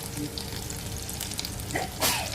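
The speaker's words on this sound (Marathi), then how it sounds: "हिरवी तिखट मिरची, कढीपत्ता 3 काड्या, चांगलं परतून घ्यायचं." Green chillies and curry leaves fry in hot oil with asafoetida for a tempering, giving a steady close sizzle throughout with a brief louder spatter near the end.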